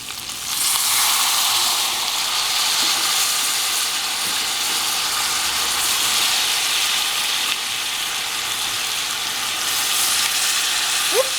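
Sauce liquid poured into a hot pot of chicken with sauce, bursting into a loud, steady sizzle and hiss of frying and steam that holds for several seconds with no talk.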